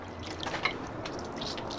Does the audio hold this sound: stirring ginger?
no